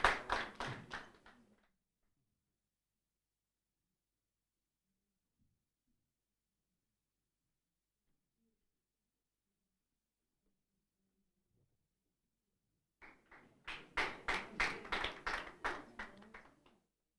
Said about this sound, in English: Guys, let's clap for the judges at least.